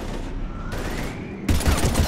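Heavy gunfire in the video game Mass Effect 3, a dense steady fusillade with a faint rising whine midway, then a sharper, louder burst of shots near the end.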